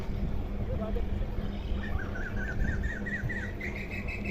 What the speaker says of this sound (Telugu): ఇక్కడ పెలికాన్ బర్డ్స్ అని బర్డ్స్ ఉంటాయంటండి. కొంచెం ఒక నిమిషం మీరు వాటి సౌండ్ వినండి.